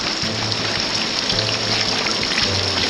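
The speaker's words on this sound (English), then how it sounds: "The power of rain clicking down." Heavy hurricane rain pours steadily with a dense hiss and patter close by, while low hums pulse three times beneath it.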